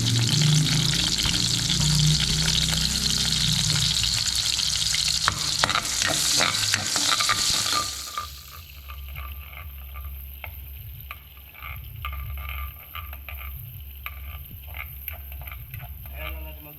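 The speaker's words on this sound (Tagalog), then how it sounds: "gigisa na natin yung bawang sibuyas natin" Garlic and onion sautéing in a pan for chicken adobo, a loud dense sizzle with stirring for several seconds that then drops to a quieter crackle with scattered clicks and scrapes.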